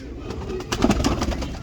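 A pigeon in a keeper's loft coos close by, soft repeated throaty notes partly mixed with background noise.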